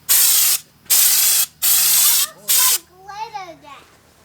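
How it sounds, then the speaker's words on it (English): A spray gun applying Raptor Liner truck bed liner coating to a truck hisses in four loud bursts separated by short pauses, then someone speaks briefly. "Boy, it's easy spraying, though."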